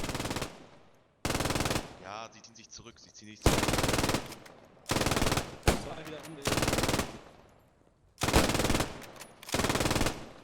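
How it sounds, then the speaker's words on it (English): Bursts of machine gun fire in the video game Post Scriptum, about six loud sustained volleys separated by short gaps, with a brief radio-style voice speaking between the first bursts. "We're going to hear the first shots of machine guns."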